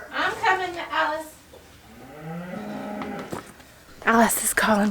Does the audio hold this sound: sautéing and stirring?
no